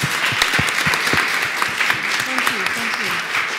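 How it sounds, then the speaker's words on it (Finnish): Audience applause for panelists at an education event announcement, brisk sustained clapping from a seated crowd throughout, with a voice speaking over it partway. "Annetaan panelisteille aplodit."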